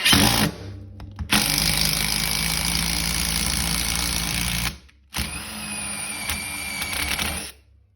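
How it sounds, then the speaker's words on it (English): A power drill whirs steadily for several seconds as it bores into a plastic bottle, pauses briefly, then runs again at a slightly higher pitch before cutting off. "we're gonna start drilling"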